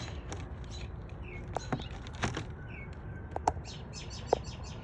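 Baby robins in the nest about 24 days old give scattered high chirps and short tweets, close and moderately loud, repeating irregularly over a soft background hiss.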